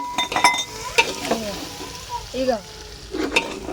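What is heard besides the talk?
tempering sizzling in pan, tomatoes being added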